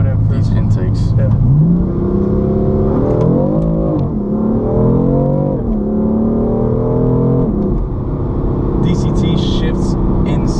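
A twin-turbo BMW M4 with aftermarket intakes revs several times, its pitch climbing and dropping in repeated surges, loud and close, as people talk nearby.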